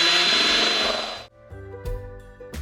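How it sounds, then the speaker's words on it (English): A power drill bores holes for mounting saucers in a kitchen window, first a loud steady whine for over a second, then stopping, followed by a few shorter, quieter bursts with brief pauses between them. "So my able assistant is drilling holes for"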